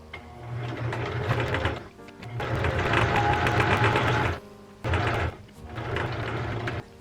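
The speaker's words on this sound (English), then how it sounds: "Thank you, sewing machine." A domestic sewing machine stitches a fabric bookmark in loud, steady whirring runs, stopping briefly twice between bursts of needle motor noise.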